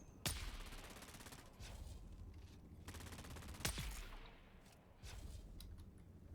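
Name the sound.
disruptor gunfire in the video game Dune: Awakening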